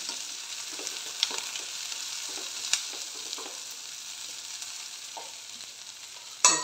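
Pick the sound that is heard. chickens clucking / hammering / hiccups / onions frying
onions frying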